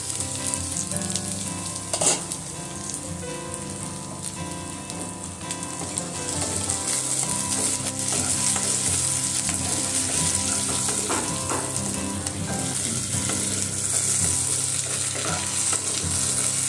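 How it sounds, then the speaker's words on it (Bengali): Potatoes, eggplant and onion frying together in a pan make a loud, continuous close sizzle with intermittent scraping and stirring throughout, and nobody speaks over it. "আলু, বেগুন, পেঁয়াজ সমস্ত কিছু ভাজা হয়ে গেছে।"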